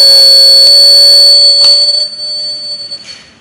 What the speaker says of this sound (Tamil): வாட்டர் டேங்க் அலாரம் செட் பண்ணியாச்சு